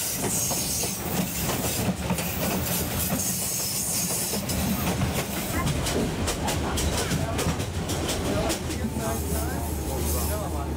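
A train runs through a valley in Myanmar, a steady rumble with rhythmic clattering of wheels and carriages heard from on board, while a voice talks over it at times.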